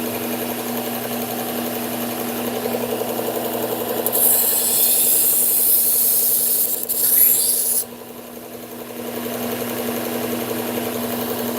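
A kitchen knife is drawn across a sharpener in a steady grinding rasp under a constant motor-like hum, with a brighter scraping pass partway through before the sound drops back to the hum.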